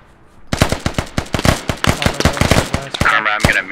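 Rapid automatic gunfire from the video game Squad, on the Narva map during a mechanized infantry battle, fires in dense, loud bursts of sharp cracks that start abruptly and carry through the whole stretch with no talk.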